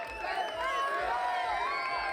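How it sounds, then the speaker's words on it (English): Fans at a Pro Wrestling Cyprus match in Nicosia cheer and shout in a steady crowd roar, while a commentator talks clearly over the top of it. "Some of these fans are cheering"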